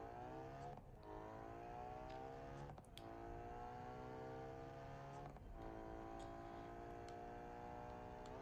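Engine in the BeamNG.drive video game at full throttle, its rising harmonic whine climbing in repeated sweeps as gears shift, loud and continuous with no one speaking.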